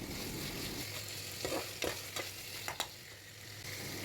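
Onions and chopped tomatoes sautéing in a pan for Tamil egg curry, a steady low sizzle with several brief clinks and scrapes of a stirring spoon, no voices.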